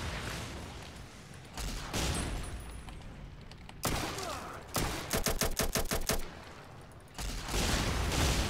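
Shotgun and other gunfire in the video game Fallout: New Vegas, loud repeated blasts and a rapid rattling burst of shots, with sharp bangs recurring through the scene.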